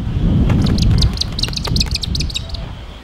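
Birds chirping in short bright calls, close and clear, with a brown goshawk and a brown falcon waiting to be released; a rumbling outdoor background sits beneath the calls.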